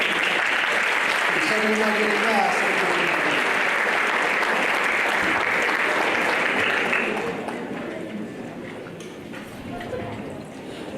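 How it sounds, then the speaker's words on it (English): A crowd at the Southern College graduation ceremony applauds the graduating class with loud, continuous clapping mixed with voices. After about seven seconds it drops to a softer patter while an announcer speaks. "let us give a round of applause to the"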